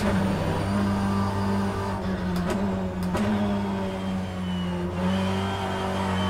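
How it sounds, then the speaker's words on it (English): A BTCC touring car in the rFactor 2 racing game drones at steady engine pitch with a sustained transmission whine, shifting slightly as the revs change, loud and continuous with brief dips. "you'll hear some pretty cool transmission whine and things like that"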